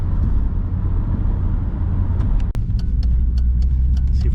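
An Audi coupe cruises with a steady engine drone and road rumble heard from inside, with a sharp click partway through and faint ticking after.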